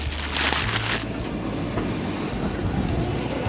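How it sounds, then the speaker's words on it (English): Wind gusts outdoors on late-season lake ice, roaring hard and buffeting the microphone in a loud, continuous rush. "It's so windy"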